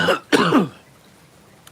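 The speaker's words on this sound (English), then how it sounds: "Coughing for a much lamer reason." Two short coughs or throat-clearing bursts from someone with a cold, brought on by cold air and smoke, the first brief and the second louder and rougher, followed by near silence.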